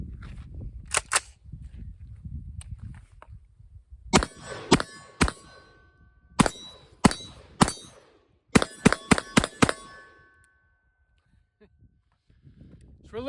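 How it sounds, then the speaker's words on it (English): An AR pistol fires at steel targets from about 40 to 50 yards outdoors, sharp reports each followed by a ringing metallic ping, in loose bursts of single and rapid shots with pauses between, and a few faint murmurs. "Shooting the AR pistol that I recently painted."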